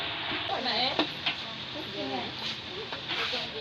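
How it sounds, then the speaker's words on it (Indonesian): Spices fry in a pan while being stirred, a moderate sizzle with scattered spoon scrapes and clinks, and a person talks over it throughout. "Sekarang kita masukkan rempah-rempah ya teman-teman."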